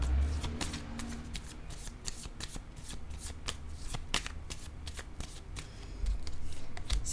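Playing cards for a team card game called Les Crosseurs Voleurs are handled and shuffled at close range, a long run of crisp, rapid snapping and riffling clicks in an irregular rhythm, with no clear speech.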